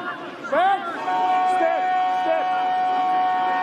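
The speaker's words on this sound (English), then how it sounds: "Siren goes, Inoita." A loud, sustained stadium siren wails steadily over the murmur of a large crowd at a Japan–Australia rugby test match, holding a single high tone after a brief rising sweep.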